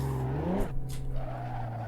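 A Nissan 400Z drifting in the Assetto Corsa racing game: the engine hums steadily while the tires squeal and skid in a sliding burst, close and loud, with no voices.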